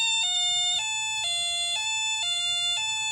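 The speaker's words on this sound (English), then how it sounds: "sounds like a police siren to me" Electronic kit circuit powered by a battery emits a continuous two-tone English police siren, alternating steadily between a higher and lower electronic pitch several times, loud and alone.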